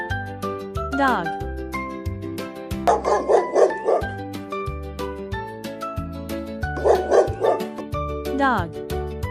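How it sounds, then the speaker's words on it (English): A dog barks in two short bursts of several quick woofs each, loud and close, set over gentle background music. "Dog."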